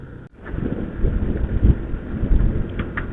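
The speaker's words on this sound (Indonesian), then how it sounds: "Guys, hujan guys." Steady broadband rush of rain and wind buffeting a moving motorcycle on a road trip in West Java, Indonesia, from Jatinangor to Ciamis via Cikijing, loud and continuous with no speech.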